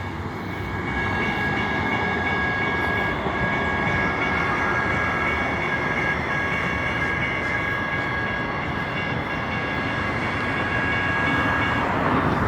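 A train rumbles steadily at a railway station, with a continuous broadband roar and a faint high whine running through it, no talking heard.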